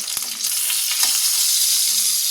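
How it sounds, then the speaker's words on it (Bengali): Pointed gourd frying in a pan at home, giving a steady, close sizzle with a few faint utensil taps throughout and no talking. "পটলগুলো একটুখানি ভাজা হয়ে যাক"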